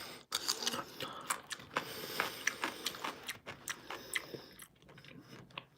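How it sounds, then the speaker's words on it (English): A person chews food on a livestream after a workout, with close, wet, crunchy bites and clicks repeating in an uneven rhythm, loud near the microphone. "apologize about the chewing"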